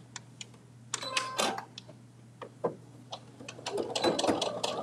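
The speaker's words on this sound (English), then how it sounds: "I'm just gonna re-sew over that one part" A sewing machine re-sewing over one section of a thick, multi-layered Sew Together bag, heard in short bursts of needle clatter and mechanical clicks with brief pauses between, close and fairly quiet.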